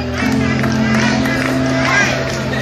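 A group of performers at a carnival inclusion gala in Gáldar cheers from the stage area. The crowd noise is loud and steady, a dense wash of voices with a tonal hum running beneath it throughout.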